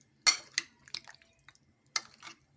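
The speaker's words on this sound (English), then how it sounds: "Mix it well. So the soya sauce and the chili, the red chili sauce gets on the chicken." Chicken being mixed with soya sauce and red chili sauce in a bowl: a few soft, wet clacks and scrapes in quick bursts, close and fairly quiet, with pauses in between.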